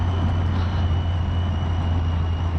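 A steady mechanical drone with a low engine hum and a thin high-pitched whine above it from two sets of straight-cut gears, continuous and close, on a running Triumph Tiger 800 motorcycle.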